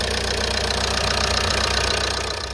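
A Ford Mondeo Mk4 1.8 TDCi diesel engine idles loud and close, a steady rapid diesel clatter with an even low throb throughout.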